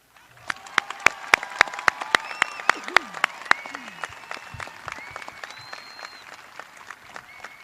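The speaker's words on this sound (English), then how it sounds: "Audience, please join me in a round of applause to congratulate the class of 2024" An audience at a high school graduation applauds with scattered, uneven claps at moderate distance, a few sharp claps standing out, with faint voices murmuring underneath.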